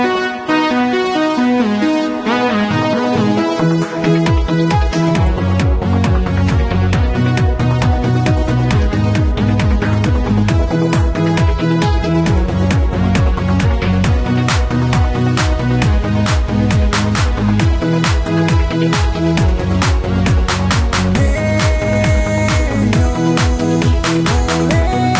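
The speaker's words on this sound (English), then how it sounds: "I'm going to show you how to make a disco beat in FL Studio" A disco beat made in FL Studio plays loud and continuous, with a driving four-on-the-floor kick, crisp hi-hats and layered synth chords and bass in a steady groove, no speech over it.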